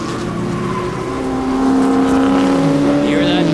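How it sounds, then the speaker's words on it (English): Porsche V8 race car engine in a 2002 Speed World Challenge GT race at Road America, a steady loud droning note that swells a little louder partway through, with faint voices mixed in. "Very distinctive note on that Porsche V8 engine."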